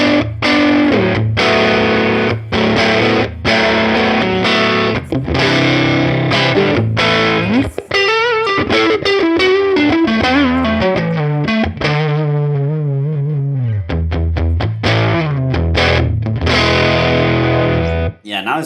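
Electric guitar played through a Woodrow amp plugin with a crunchy, broken-up tone, loud and continuous with strummed chords and single-note runs, sustained notes and brief gaps.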